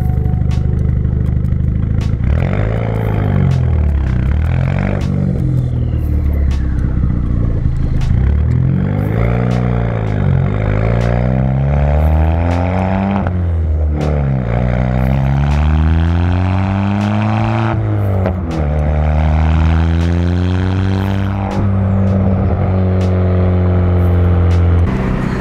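A Ford Fiesta ST rally car with a race exhaust drives past with a loud, close engine note that repeatedly rises through the revs and drops as it shifts gears, carrying a raspy, crackling exhaust tone throughout.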